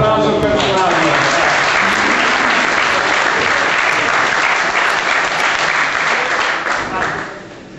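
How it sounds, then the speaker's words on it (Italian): Applause for a contestant named Flavio fills the space, a loud, dense crowd clapping that holds steady for several seconds before tapering off at the end. "Un applauso per Flavio."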